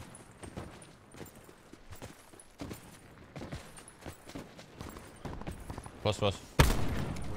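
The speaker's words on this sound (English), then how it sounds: "Oh, I'm hearing a big boy gun." Heavy gunfire booms nearby in a Call of Duty Black Ops 4 battle royale match, sparse shots at first that build into loud, close bursts near the end while a player speaks briefly.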